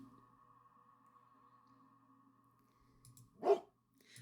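A dog in the video game Stillwater gives a single short bark near the end, after a quiet stretch of faint ambient hum and low tones.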